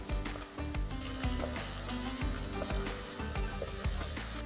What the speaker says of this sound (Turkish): hazır kavurmamızı tenceremize ekleyip kavurmalar dağılana kadar karıştırıyoruz